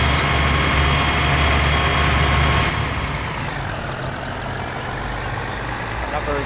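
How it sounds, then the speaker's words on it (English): A heavy truck in the video game Demolition Company, pulling a handbrake half donut: a loud, close diesel engine roar with dense rumble that drops in pitch and eases slightly partway through, then holds steady while turning. "we're going to pull the handbrake and we're going to pull off a half donut"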